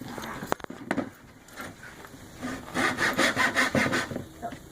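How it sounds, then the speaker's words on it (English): Handsaw finishing a cut through wood in a workshop, a few hesitant strokes giving way to a steady run of rhythmic rasping push-pull strokes, close and fairly loud. "in case you don't have a circular saw or any kind of power saw, you can use a handsaw. So that's what we're going to do to finish up this cut"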